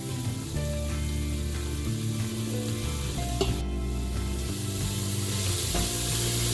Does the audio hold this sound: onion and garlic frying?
yes